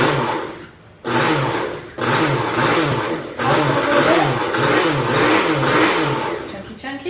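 A kitchen blender runs on high, chopping vegetables in loud grinding bursts, starting and stopping several times with a few brief pauses, close to the listener.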